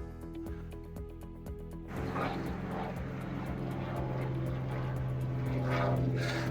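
An airplane drones overhead with propeller-like throbbing, joined by the rumble of passing cars, a steady low roar that swells and grows louder partway through.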